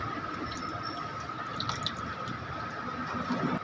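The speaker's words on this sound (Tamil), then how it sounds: "அடுத்தது தண்ணி எவ்வளோ தேவை இருக்க தண்ணி ஊற்றிக்கிறோம்." Water poured into a mixer jar while preparing Rajasthani-style spiced buttermilk with curd, a steady trickling splash that runs continuously, fairly close and moderately quiet.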